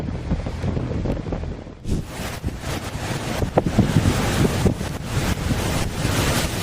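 Heavy roar of storm surf and wind buffeting the microphone on the Lancashire coast, steady and loud throughout, with a surge of crashing water partway through.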